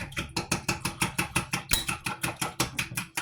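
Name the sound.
whisking blueberry muffin batter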